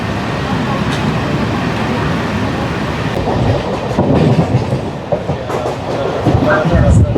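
Mumbai local train running near Bhivpuri Road station on the CSMT to Khopoli line, a steady loud rumble of wheels and carriage with faint clicking, heard from on board with some background voices.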